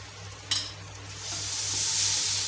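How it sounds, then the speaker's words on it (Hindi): Soaked masala with red chilli powder fries in a pan for dum aloo, a close steady sizzle building in intensity, with a brief scrape of a spoon stirring near the start. "इसे आधे से 1 मिनट तक हमें यूं ही चलाना है ताकि हमारा मसाला भुन जाए।"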